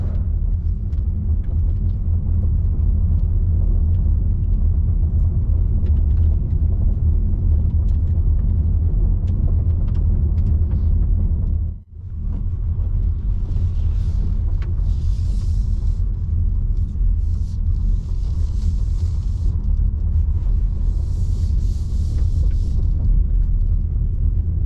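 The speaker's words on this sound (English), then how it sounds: "Let's take the Volvo for a spin." A 2024 Volvo EX30 Twin Motor Performance Ultra AWD electric car, 428 HP, cruising through a forest: steady low road rumble and tyre noise throughout, with a brief dip midway and faint higher whirring later.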